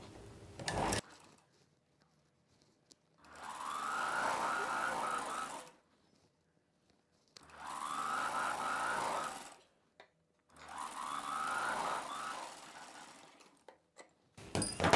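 A sewing machine stitches a double-folded cloth strip for a boat neck dress in three steady bursts of rapid mechanical whirring, each lasting about two to three seconds with quiet pauses between, heard close up.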